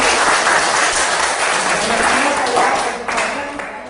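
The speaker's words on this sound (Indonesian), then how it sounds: "Silakan tepuk tangan dulu." A class of students in an Indonesian school lesson claps together for a presenting group: loud, steady, dense applause close by that holds for about three seconds, then begins to taper off.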